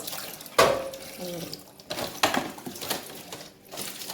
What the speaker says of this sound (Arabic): اشطف معاكم الغسيل اللي انا غسلته